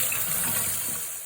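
Tap water runs steadily into a sink during handwashing in a kitchen, a soft continuous rush without talk.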